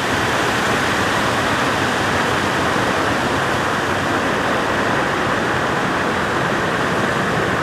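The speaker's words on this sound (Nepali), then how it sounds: "ठ्याक्कै झरना जस्तो देखिन्छ" Water pours over the Khardu project dam on a river like a waterfall, a loud, constant, close roar of rushing water with no break and no voices.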